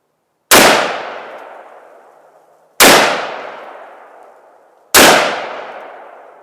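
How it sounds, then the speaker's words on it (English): Three loud single gunshots from an AR-15 rifle on semi-automatic fire, spaced about two seconds apart, each a sharp crack with a long echoing tail outdoors. "I'm going to just do a couple of semi-automatic fires first."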